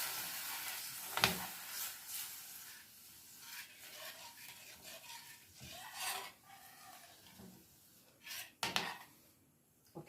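Spoon scraping and stirring through food in a pan for a pork chop stew, quiet and intermittent, with a few sharper scrapes against the pan and faint sizzling between strokes.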